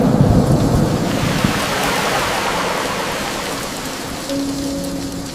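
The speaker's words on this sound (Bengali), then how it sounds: "আজ মেঘে ঢাকা রাত। বিদ্যুৎ চমকাচ্ছে মুহুর্মুহু।" A thunderstorm roars with a heavy rumble of thunder over dense, steady rain, loud at first and slowly easing into a continuous wash of rainfall.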